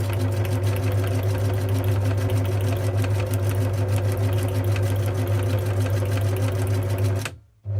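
Old, noisy sewing machine stitching zigzag on fabric, a loud steady mechanical whirr with rapid needle clatter for about seven seconds before stopping abruptly.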